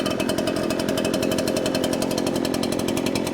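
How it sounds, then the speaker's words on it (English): ECHO backpack leaf blower two-stroke engine running steadily just after a pull start, loud and close with a rapid buzzing pulse and no pauses. "She's up and running."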